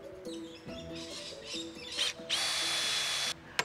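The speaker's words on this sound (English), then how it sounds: "I'm drilling and nailing the braces into place between the long sleepers" A power drill bores into timber braces between long sleepers while a letterbox planter is built, giving a few rough bursts and then one loud, sustained whine with a steady pitch, set over a quiet low tonal background.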